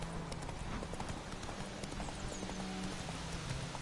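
Horse hooves gallop steadily in The Witcher 3 video game, a continuous rapid clip-clop close up and loud over a dense game soundscape, with no talk.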